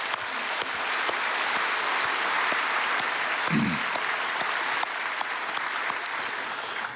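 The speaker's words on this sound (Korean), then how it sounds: "우리 주님 앞에 감사와 영광의 박수를 올려드리겠습니다." Congregation applause fills a church worship service, a dense, steady wash of many hands clapping continuously at moderate level with no speech over it.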